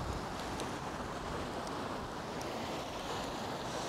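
Gusting wind outdoors during winter trout fishing, a loud continuous rushing roar buffeting the microphone throughout with no voices.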